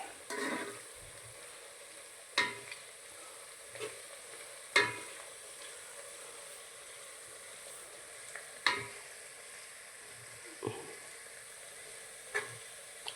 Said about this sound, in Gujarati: હલાવીને થોડીક વાર પાકવા દઈએ